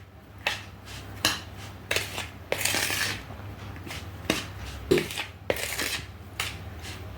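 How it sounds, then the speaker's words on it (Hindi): A spoon stirs semolina and powdered sugar together in a bowl, with close, repeated scraping and rubbing strokes in an uneven rhythm and no talking. "इन सभी चीज़ों को मिक्स कर लीजिए।"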